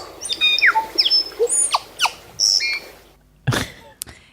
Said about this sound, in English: this is our tui bird, and also referred to as the parson's bird